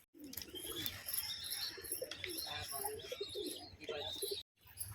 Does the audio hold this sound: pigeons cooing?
yes